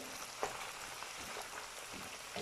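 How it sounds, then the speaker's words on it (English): Steady, busy sizzling and crackling of gizzards frying in a hot pan, continuous throughout with no voices. "I just added all the gizzard into the frying pan"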